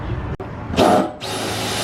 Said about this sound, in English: He said he's using a reverse drill